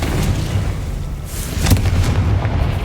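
A Confringo fire spell explodes in Hogwarts Legacy, a dull low boom with a sharper burst near the middle, set over a steady rumbling game backdrop.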